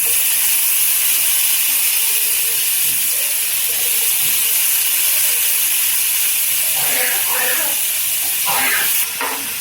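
Raw banana pieces fry in a pan with steady, loud hissing and sizzling, and spoon scraping and stirring noises near the end.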